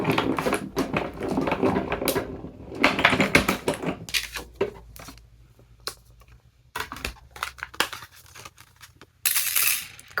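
Paper gift tag with a snowflake design being die cut by machine, giving bursts of rapid mechanical clatter and rattling broken by quiet gaps, close and fairly loud with no talk.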